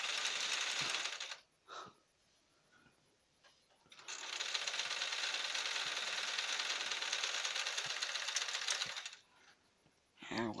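A sewing machine making a pillow slip cover runs roughly, a close rattling mechanical whir in two long bursts separated by a quiet pause, with brief clicks between runs and no talk over it.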